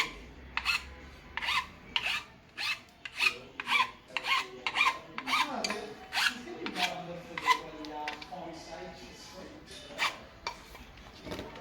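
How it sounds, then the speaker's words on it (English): A hand file rasps burrs off the freshly cut edge of a road bike steerer tube in a quick, rhythmic series of short scraping strokes, close and fairly quiet. "Just cleaning off the burrs. Just give the cut edge a bit of a tidy up."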